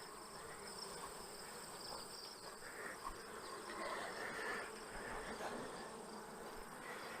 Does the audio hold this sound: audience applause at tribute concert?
no